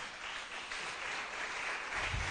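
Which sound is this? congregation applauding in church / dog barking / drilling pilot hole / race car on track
congregation applauding in church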